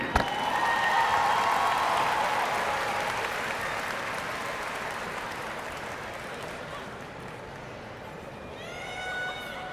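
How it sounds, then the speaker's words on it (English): Sustained applause from a large graduation ceremony audience fills the hall for several seconds, steady and dense, then thins out near the end as a voice comes in. "Let's give another round of applause for Mr. Ray Williams."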